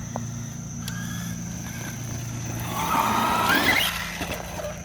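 A Traxxas Rustler 4x4 VXL RC car driving outdoors, its motor whining steadily before a louder rising squeal as the tires skid, then fading back down.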